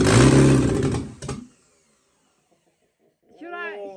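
A Sunbeam Alpine engine fires for the first time, a loud rough burst of running for about a second and a half that quickly dies, followed by silence and then excited voices.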